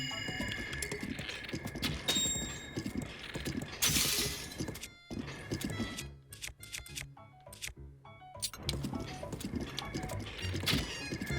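Horse hooves clatter in a steady galloping clip-clop in The Legend of Zelda: Breath of the Wild, mixed with game music and effects, with occasional sharp impacts.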